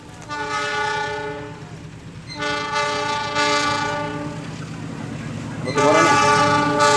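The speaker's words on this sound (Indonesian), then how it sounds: "Kereta api angkutan Batubara melintas langsung." A coal freight train passes straight through Cibinong station, its sustained horn sounding in long harmonic blasts, loud and close, with a rumbling rolling undertone throughout.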